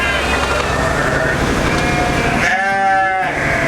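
A loud Awassi sheep bleats once on a farm, a wavering cry that follows steady, close background noise.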